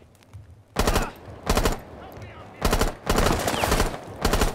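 Rapid bursts of automatic gunfire from a firefight in the video game Rainbow Six Siege during a hostage extraction in a vault, loud and close, coming in several separated volleys of about half a second to a second each.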